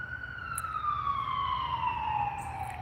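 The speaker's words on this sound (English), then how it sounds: "There's an ambulance on." An ambulance siren passes at a distance, its steady wailing tone sliding gradually lower in pitch as it goes by over a low background rumble, with no voices.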